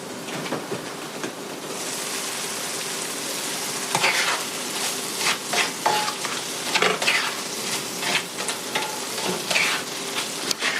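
Onions and mushrooms sauté in coconut oil, making a steady close sizzle with frequent spatula scrapes and stirring clatters that grow busier partway through.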